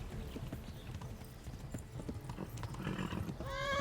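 Horse galloping in the medieval video game Kingdom Come: Deliverance, a steady run of clip-clop hoofbeats under a rumbling mix, ending with a loud neigh close by.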